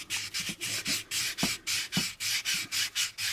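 Rhythmic back-and-forth sanding strokes on a plastic warp engine part from an AMT 1983 U.S.S. Enterprise model kit, about a dozen close, steady rubs with brief pauses between, no talking.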